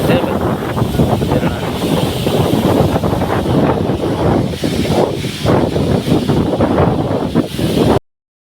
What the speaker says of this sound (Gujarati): પવન પણ જોરદાર આવતો હશે ભાઈ